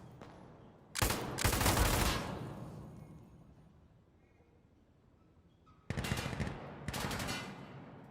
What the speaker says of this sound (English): I did not mean to shoot my teammate.